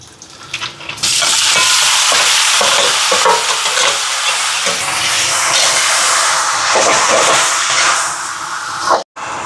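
Onions and raw mango frying and being stirred in a pan for a Sri Lankan lunch, a steady loud sizzle with scraping stirring strokes throughout, briefly cutting out near the end.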